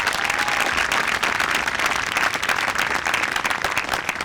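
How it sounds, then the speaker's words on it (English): An audience applauds at a Black Lives Matter rally in Seacoast, New Hampshire, a continuous, fairly loud burst of many hands clapping at once with no break. "Let's give him another round of applause"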